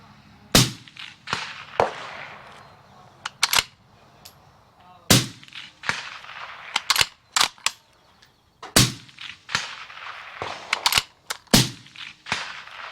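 Sharp, loud reports from a Uintah Precision UPR-15 .223 rifle at a long-range shooting session, a string of close shots with ringing echoes between them and a few fainter pops in the background.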